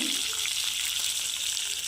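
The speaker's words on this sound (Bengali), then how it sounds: "মাছের মাথা ভেজে নিচ্ছি" A rohu fish head sizzles in hot oil in a wok, with a loud, continuous, bright crackling hiss that holds steady for the whole moment.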